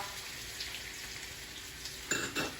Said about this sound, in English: I'm going to start sauteing my vegetables.